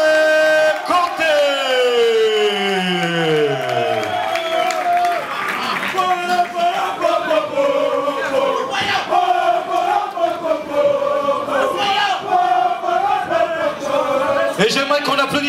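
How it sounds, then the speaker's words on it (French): Crowd at a Muay Thai boxing event cheering, shouting and clapping for two boxers after a fight ends by doctor stoppage, loud and continuous, with a sustained horn-like tone and rising voices over the din. "Et j'aimerais qu'on applaudisse très fort nos deux boxeurs"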